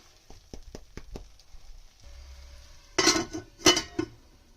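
Metal lid set down on a cooking pan of mashed mixed vegetables, giving two loud clattering clanks after a series of light clinks and a low hum.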